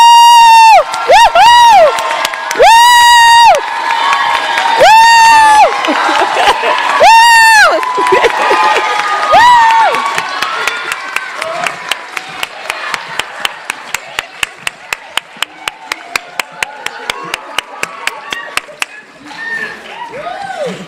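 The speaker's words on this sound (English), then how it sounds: "give them another round of applause" A crowd at a university nursing pinning ceremony cheers and whoops loudly in repeated rising shouts, then breaks into steady, rhythmic clapping that fades toward the end.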